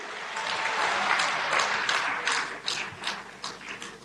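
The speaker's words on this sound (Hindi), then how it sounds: "बहुत जोर से तालियां बजाकर माननीय प्रधानमंत्री जी का, माननीय मुख्यमंत्री जी का अभिनंदन कीजिए" A crowd applauds loudly for the Prime Minister at the Jewar foundation ceremony, dense steady clapping that later breaks into uneven bursts and fades.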